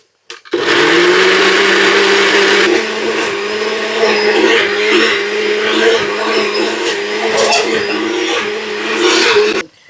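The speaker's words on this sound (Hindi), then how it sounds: "तो इसको जी मैंने कर लेना है ग्राइंड, ये बनेगी सॉस बटर चिकन की" A kitchen blender grinds tomatoes and fried onions into a butter chicken sauce, starting abruptly with a loud, steady motor whine and churning, shifting pitch slightly partway, then cutting off near the end.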